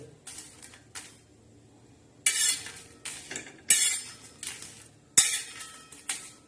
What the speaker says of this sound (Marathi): आता मिरच्याला छान असे काळे डाग पडूपर्यंत मिरच्या आपण भाजून घेऊ